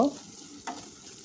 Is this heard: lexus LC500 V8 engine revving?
no